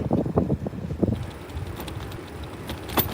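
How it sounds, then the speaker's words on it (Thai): Wind gusting outdoors across a microphone, producing a steady low rumble with buffeting bursts in the opening second and a brief swell near the end, with no voices. "ว่ามันลมไง"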